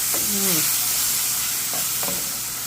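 Mushrooms and garlic sautéing in a pan, a steady close sizzle with a few brief scraping stirs and a faint voice-like tone early on.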